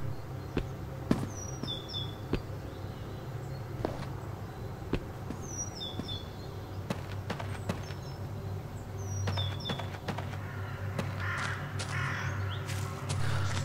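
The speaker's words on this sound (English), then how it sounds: "the ambience, the sounds mainly, like the birds and things like that" Crows caw intermittently in short harsh calls at a distance over a steady low rumble of outdoor ambience in a Half-Life 2 Episode 2 custom map, with occasional faint knocks and clicks.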